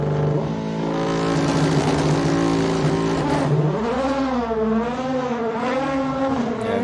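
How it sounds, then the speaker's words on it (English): Petter Solberg's race car accelerates hard at the Simola Hillclimb, a loud sustained engine howl climbing through the revs with a gear change and rising pitch, heard from nearby outdoors. "Listen to this car."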